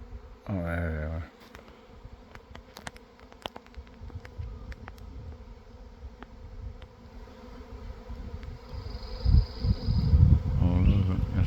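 A swarm of bees hums steadily in the background from a nest in Georgia woods, with a brief voice-like burst near the start and louder rustling noise toward the end.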